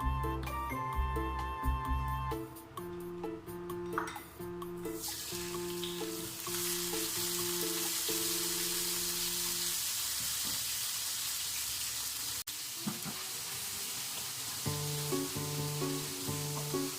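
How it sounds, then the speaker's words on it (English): Shrimps fry in hot rapeseed oil with a loud, continuous sizzle, joined by stirring scrapes and clatter, over a faint background hum. "Then fry some shrimps in vegetable oil."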